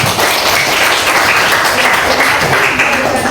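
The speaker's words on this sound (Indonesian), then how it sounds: "Beri tepuk tangan dulu untuk kita semua" A classroom of students applauds together, a dense, steady wash of clapping that fills the room at even volume from start to finish with no pauses.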